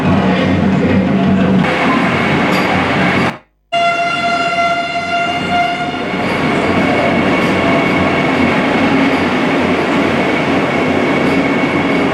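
Vande Bharat express train running, a loud continuous rumble of wheels and carriage noise with steady tonal whine, briefly cut to silence then resuming with a rising horn-like tone before settling back into the rolling roar.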